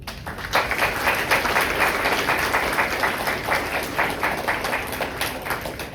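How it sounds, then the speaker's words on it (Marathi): A theatre audience applauds after a Marathi stage play, with dense, even clapping from many hands that is moderately loud and sustained for about six seconds, with no talk. "तर खूप खूप आभार तुमचं टाळ्या दिल्याबद्दल"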